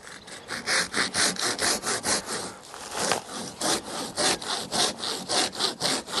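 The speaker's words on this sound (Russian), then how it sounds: "Давайте еще разок попробуем бигбоем. Ствол примерно 10-12 сантиметров толщиной." A Silky BigBoy Japanese pull saw cuts through a tree trunk about 10–12 cm thick, giving steady, evenly paced rasping strokes close up, roughly two to three per second, with no talking.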